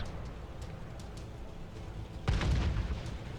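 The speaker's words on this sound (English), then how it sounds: "I'm shooting premium ammo now, since I'm shooting at heavies." A Sherman Grizzly tank gun fires a premium round in World of Tanks: one loud, deep boom cuts through steady engine and battlefield rumble, its low roar trailing off.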